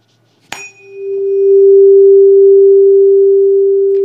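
A struck tuning fork held over a tube partly filled with water makes a sharp click followed by a loud, steady, pure resonant hum from the air column that holds for several seconds.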